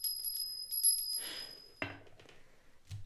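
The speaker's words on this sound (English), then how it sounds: "I feel guided to ring this little bell." A small bell rings close and clear in a few quick bright strikes, its tone hanging briefly before a soft knock and quiet handling noises.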